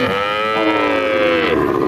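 A crossbred dairy cow, six-toothed and giving four litres of milk, moos loudly and close by in a long drawn-out call with no talk over it.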